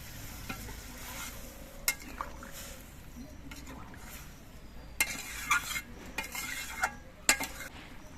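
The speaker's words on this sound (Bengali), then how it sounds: "এবার এর মধ্যে আমি দুধটা দিয়ে দিচ্ছি এবার জালটা একটু বাড়িয়ে দিতে হবে" Pointed gourd pieces cooking in milk in a pan sizzle gently while a spoon stirs and scrapes against the metal, producing irregular clinks and sharp taps over a faint, steady bubbling hiss.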